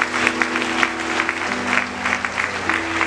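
A church congregation applauds during a consecration-week sermon, with steady rhythmic clapping from many hands under a sustained music tone, moderately loud and filling the room.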